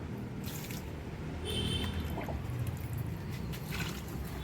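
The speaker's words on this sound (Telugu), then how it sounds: "ప్రతి మొక్కకు ఇట్లా కొన్ని కొన్ని వాటర్ ఇచ్చుకుంటే సరిపోతుంది" Water poured onto potted plants, a steady soft trickling and splashing close by that runs through the whole stretch with faint rustling and no talk.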